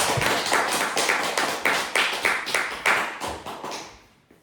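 An audience at a commemorative church worship service breaks into a burst of hand clapping, dense and close at first, then thinning and fading away after about four seconds.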